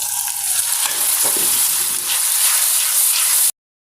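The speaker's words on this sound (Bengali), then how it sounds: "এখন এই মশলাটা একটু ভাজা ভাজা করে নিচ্ছি" A ginger, garlic and cumin spice paste frying with fried onions in a pan gives a loud, close, continuous sizzle with a few stirring scrapes, then cuts off abruptly into silence.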